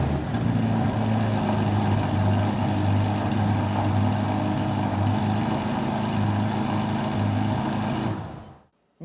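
Exhaust of a 2021 Ferrari Roma, a steady, loud engine drone held at constant pitch for about eight seconds before cutting off abruptly.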